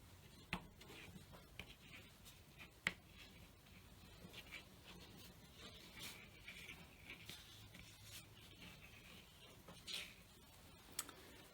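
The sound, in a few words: drawing on paper with a wax crayon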